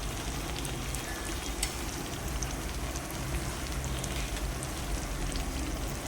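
Masala sizzling and frying in hot oil in a kadhai, a steady, even crackle and hiss heard close and fairly quiet, with no talk over it.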